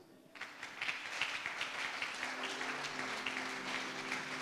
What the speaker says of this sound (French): on acclame pour Dieu